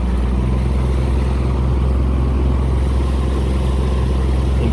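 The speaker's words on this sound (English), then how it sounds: "All right, idling. Increase power a little bit." A steady, loud Mercury four-stroke outboard motor running continuously at low, even revs, a constant drone with no clear rise in pitch.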